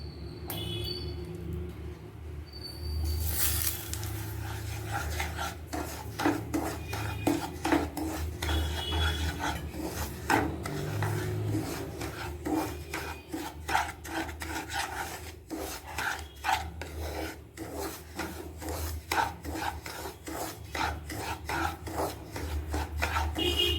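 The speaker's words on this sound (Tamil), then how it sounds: "ரவையை வறுத்து எடுத்துக்கலாம்." Semolina (rava) being roasted in ghee and stirred in a pan, giving steady rhythmic scraping and rasping strokes that repeat closely for a long stretch with no talking.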